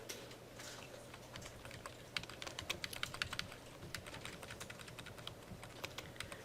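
Rapid, uneven clatter of keys on a computer keyboard, a steady stream of light clicks and taps close by, with no voices over it.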